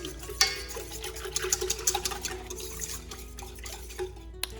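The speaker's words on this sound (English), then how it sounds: "We're just going to give that a good whisk together." Whisking ingredients together in a bowl while making burger buns, a quick irregular run of light metallic clinks and scrapes against the bowl, close up, with no talking.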